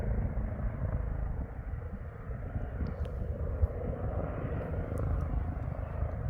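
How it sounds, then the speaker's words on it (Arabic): A hospital air ambulance helicopter flies over German farm fields, its steady low engine and rotor rumble sustained and fairly distant throughout, with no one speaking. "شباب هاي الطيارة خاصة مال المستشفى"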